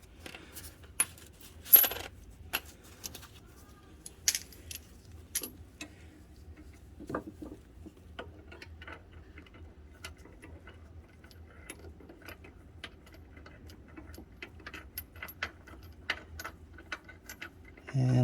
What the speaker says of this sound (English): we're going to try to get one of these bolts in there first